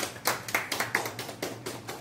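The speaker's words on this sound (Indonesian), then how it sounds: "Boleh berikan tepuk tangan Bapak Ibu." Audience at a library event at the Jakarta Islamic Center clapping in a sparse, uneven rhythm of about eight distinct claps over two seconds, moderately close, with no voices.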